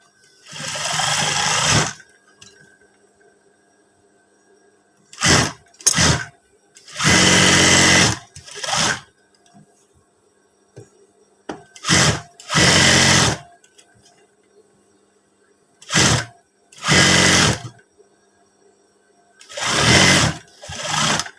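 An electric sewing machine stitches fabric for a teacher's uniform with a PKK-style collar, running in about nine loud, close bursts of rapid whirring separated by quiet pauses, with occasional talk between runs.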